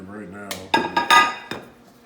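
A knife cuts bacon into pieces on a cutting board: a few sharp knocks and chops in quick succession, close and moderately loud, after a brief bit of talk.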